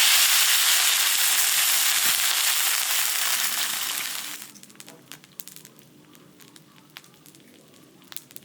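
Water splashes into a hot iron wok of fried chili while cooking cured pork with cabbage, and a loud, close hiss of steam fills about four seconds before dropping abruptly to a faint, sparse crackle.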